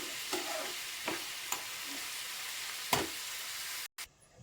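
Onions fry in a pan for a healthy breakfast dish, a constant close sizzle broken by four spoon scrapes and taps, before the sound cuts out and only a faint trace remains.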